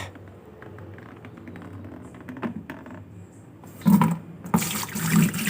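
Dissolved Gandasil D fertilizer solution being poured, a soft trickle and splash that grows louder and more broken near the end, fairly quiet and close.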